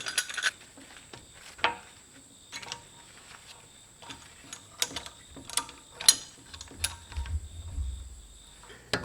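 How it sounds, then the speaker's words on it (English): A ratchet with a 17mm socket turns brake bolts on an E70 Land Cruiser during front brake and bearing work, giving quiet rapid clicking bursts with small metallic taps, close up and with no talk. "Using our 17mm socket, we'll attach those back."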